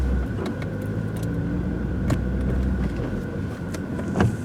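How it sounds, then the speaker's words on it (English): Car with crusty, rusted brakes grinding while driving, a steady engine and road rumble with scraping, clicking grinding bursts layered over it, close and moderately loud. "Ooh, listen to that grinding. We gotta polish them rotors and drums."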